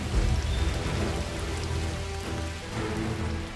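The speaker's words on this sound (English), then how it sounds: "mimics the natural rain of the Amazon, producing the looks and sounds which sees unbroken downpours for hours" Artificial downpour in a large indoor rainforest exhibit modeled on the Amazon, a dense, steady hiss of falling water drumming on foliage and surfaces, loud and continuous with no voices.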